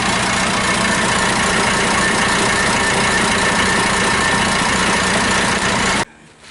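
A Perkins 236 / Cat 3116 turbo diesel in a rat rod runs at a steady, close, loud idle while warming up, then cuts off abruptly near the end.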